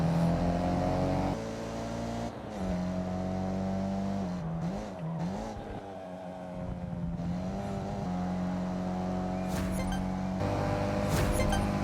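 A hatchback's engine in the Forza Horizon racing game drones steadily and loudly, its pitch stepping up through gear changes, dipping and wavering mid-way as it comes off the throttle, then climbing again, with brief scrapes and clinks and no talk.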